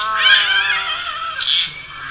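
A Sumatran binturong at a safari park gives cat-like, drawn-out whining calls while playing, two close, moderately loud cries with a short gap between them.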